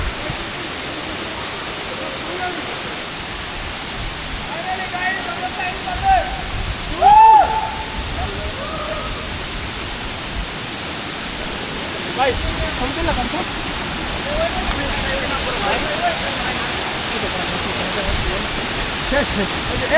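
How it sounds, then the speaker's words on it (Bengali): The wild Saingpra waterfall, reached after a jungle trek, roars as a steady broad rush of falling water that fills the whole scene at close range, with a brief knock and faint voices in the background. "আমাদের সেই কাঙ্ক্ষিত যে সাইনপ্রা ঝর্ণা সেইখানে আসতে পেরেছি দেখেন কতটা সুন্দর"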